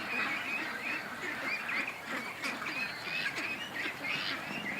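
Ducks quack steadily throughout, a dense chorus of several birds feeding on grass near a lake, with overlapping calls in a continuous, busy rhythm at close to moderate range.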